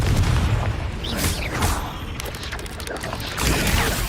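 A Confringo fire spell explodes in the video game Hogwarts Legacy, a loud booming blast with crackling bursts and a rumbling tail over a dense, noisy game mix.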